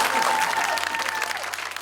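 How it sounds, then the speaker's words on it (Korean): Audience applause at a live Korean TV vocal ensemble performance, a steady wash of clapping from a crowd with a faint tone held over it, fading slightly toward the end. "박수 부탁드립니다."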